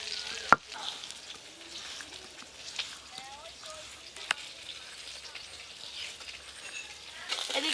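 Fish and potatoes fry in oil with a soft, continuous sizzle at low volume, broken by a sharp clink near the start and a few scattered utensil knocks.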